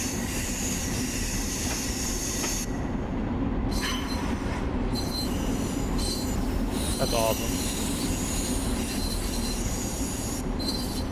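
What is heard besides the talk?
commuter train pulling into station, video game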